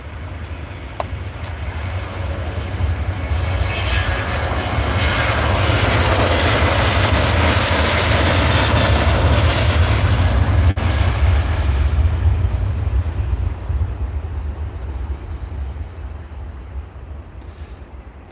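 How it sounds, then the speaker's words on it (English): A Ryanair jet airliner takes off at Edinburgh Airport, its engines a broad sustained roar that swells over several seconds and then slowly fades as the aircraft climbs away, with no talking. "Nice long takeoff for all that."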